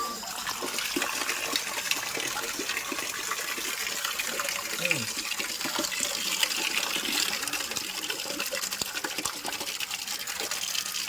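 Water splashing and gushing steadily as it is poured into a cooking pot outdoors, a continuous close liquid rush lasting the whole stretch with faint voices underneath.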